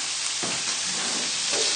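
Chicken livers sizzle steadily in a hot frying pan for a brandy cream sauce, a close, continuous crackle and hiss with a brief surge of spitting partway through and no voices.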